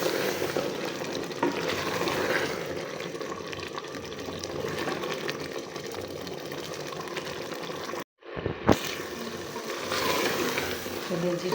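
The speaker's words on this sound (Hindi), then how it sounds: "और फिर इसको भूनते हैं।" Chickpeas for a curry fry and get stirred in oil in a pan, a continuous close sizzle with scraping stirs, broken by a brief silent gap before the frying noise resumes.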